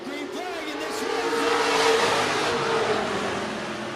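Modified race cars at a North State Modified Series event roar off at the green flag, a dense engine wash swelling over a second or two and holding steady, with a faint tire squeal in the mix.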